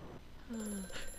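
A telephone rings briefly inside the horror game Amnesia: A Machine for Pigs, a short muffled ring heard alone over a low, dark ambient background.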